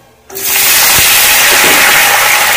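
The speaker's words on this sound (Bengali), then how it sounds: "ফোড়নটা ভালো গরম হয়ে গেছে, এবার এতে দিচ্ছি ছোট করে টুকরো করে কেটে রাখা গাজর" Chopped carrots drop into hot oil tempered with dried red chilli and mustard seeds, setting off a sudden loud, close hiss that holds steady and sizzling, with no talk.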